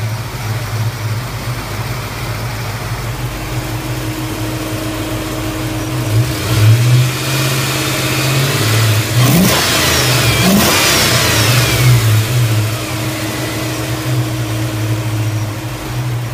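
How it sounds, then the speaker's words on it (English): A 1995 Ford Mustang GT with the 5.0 pushrod V8 idles with a steady rumble, then revs up hard in the middle before settling back to idle, heard alone. "Listen to it right here."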